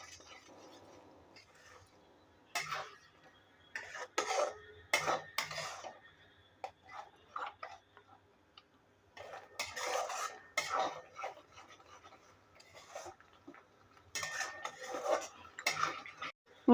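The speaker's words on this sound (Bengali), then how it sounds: "দিয়ে ভালোভাবে মিশিয়ে নেব।" Metal spoon clinking and scraping in a pan while turmeric and Kashmiri chilli powder are stirred in for a vegetarian cauliflower and potato curry, with intermittent bursts of knocking and stirring separated by quiet pauses.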